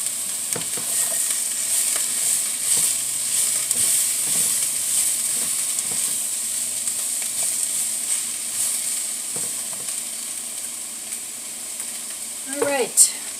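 Pak choy and parsley with their stems fry in a pan with a constant loud sizzle and hiss. A utensil stirs and taps now and then, and a brief voice-like sound comes near the end.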